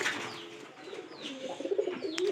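A pigeon coos softly in low, rolling murmurs while being caught by hand, with faint rustling and other light bird sounds nearby.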